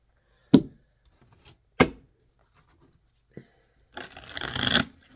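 A deck of tea leaf oracle cards being handled and shuffled: two sharp card snaps near the start, a small tap, then a longer riffling rustle of cards near the end, close and quiet.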